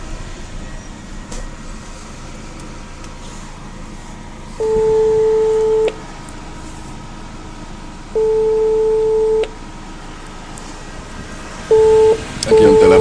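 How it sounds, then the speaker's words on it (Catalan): Intercom at an unattended motorway toll booth at Borges Blanques ringing in three long electronic tones with pauses between, loud and close over steady traffic and engine hum. "Aquí hi ha un telèfon, no ens l'agafen."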